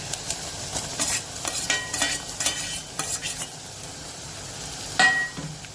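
Tomato goes into sautéed onion, garlic and chillies for a Gujarati moong masala, giving a close sizzle broken by a run of quick spoon scrapes and taps against the pan, then a sharp clink near the end, with no speech.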